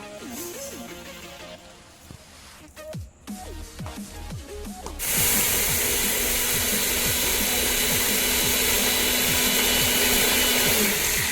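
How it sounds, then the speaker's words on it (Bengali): A kitchen mixer grinder powders dry-roasted sago, starting with clattering and short bursts, then settling into a loud, steady high-pitched whir that runs on without talk. "এরপর একটা মিক্সি দিয়ে বাটি নিয়ে নিচ্ছি, এটা দিয়ে পাউডার বানিয়ে নেবো"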